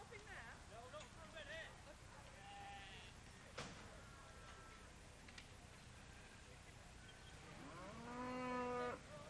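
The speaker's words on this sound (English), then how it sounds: "One of the smallest breeds of cattle is the Dexter breed." Dexter cattle at the Dorchester Show let out a drawn-out moo near the end, with fainter lowing earlier, over steady outdoor showground noise and background voices.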